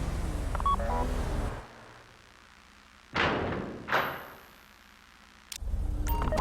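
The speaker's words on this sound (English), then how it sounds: "Take out your phone and trigger the door." In the GTA Online Fleeca Job heist, a phone beeps with short electronic tones, then the vault door gives two heavy thuds and a hiss as it unlocks and swings, ending with a sharp metallic clunk.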